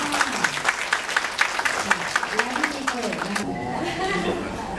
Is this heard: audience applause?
yes